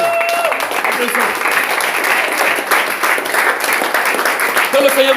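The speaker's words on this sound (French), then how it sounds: "Applaudissons pour le Seigneur. Applaudissons." A church congregation claps together during a worship service, a dense, steady wash of applause that continues the whole time, with voices and faint musical tones mixed underneath.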